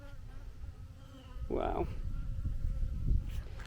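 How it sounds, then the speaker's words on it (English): Several bees in a garden with raised beds buzz close around a person in a steady, wavering drone that swells as one passes near, while a voice briefly exclaims. "Oh, there's 4 bees surrounding me."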